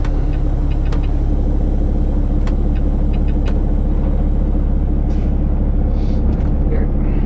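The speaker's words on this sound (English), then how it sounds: "This truck likes to start in first gear for whatever reason." A truck engine rumbles steadily and low as it pulls away in first gear, with a few sharp clicks and knocks over the drone.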